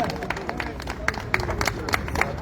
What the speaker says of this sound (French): Des applaudissements pour Tchobo Christian